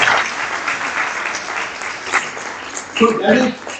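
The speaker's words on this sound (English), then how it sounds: "So big round of applause" A lecture-hall audience at a college career and innovation event breaks into a round of applause, dense continuous clapping throughout, with a brief voice rising near the end.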